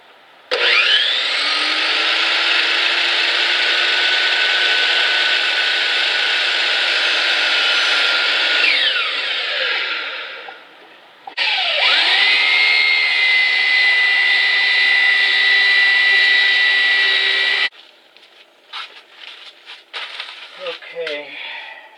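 A power saw cutting wooden boards for a toolrack, a loud steady whine through two long cuts separated by a brief drop, then stopping into scattered clatter.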